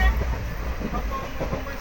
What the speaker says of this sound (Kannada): ಟ್ರೈನ್ ಬಂತು ನೋಡ್ರಿ